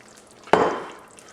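A single sharp scrape of a spoon through beef chili as dark and light red beans are stirred in, a brief clack followed by a short fading rustle in a quiet kitchen.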